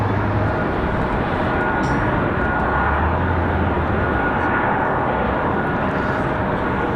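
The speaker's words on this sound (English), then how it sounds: "Glad I can bring you guys the Dreamliner for Lufthansa. That first arrival." A Lufthansa Boeing 787 Dreamliner arrives with a steady, broad engine roar that holds loud and even throughout.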